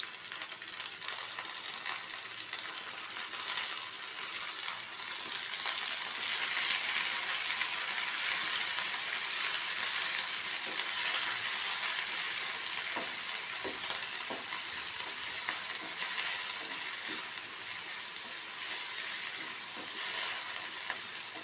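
Mint leaves sautéing with onion and green chili for mint chutney, a soft, steady hiss of frying held throughout, with occasional faint stirring scrapes and no speech.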